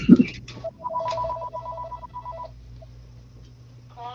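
A telephone rings with a bright electronic warbling tone in a few repeated bursts, close and fairly loud, after a brief thump at the start.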